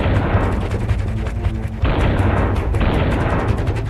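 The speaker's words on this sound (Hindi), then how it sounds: "तोप के गोलों का ताबड़तोड़ प्रहार।" An artillery shell barrage in the war in Ukraine: a dense, relentless rumble of rapid blasts and pops, loud with no pause.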